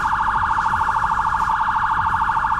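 A Roblox sheriff patrol car's third siren, a rapid warble, trills steadily at high pitch, a fast pulsing tone that stays loud and constant throughout.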